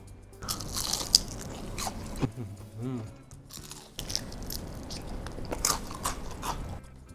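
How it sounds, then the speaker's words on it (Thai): Crunchy bites and chewing into freshly fried, beer-batter-coated squid tentacles, with several crisp crackles close by and someone talking intermittently between bites. "หนวดนะครับของโปรดนะจะชิมดูนะว่าแป้งกรอบหรือเปล่า"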